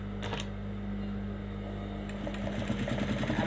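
A sewing machine hums steadily, then speeds into a rapid rhythmic stitching chatter near the end, close and moderately loud.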